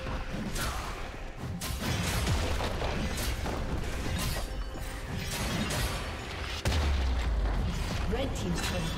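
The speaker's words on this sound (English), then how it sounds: "Red team's turret has been destroyed." A turret destroyed in a League of Legends top-lane match: dense booming, crashing explosions and shattering game effects fill the stretch, with a heavier low thump near the end and a game announcer voice mixed in.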